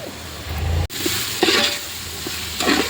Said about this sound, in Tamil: ஆனியன் வதங்கிட்டுருக்கு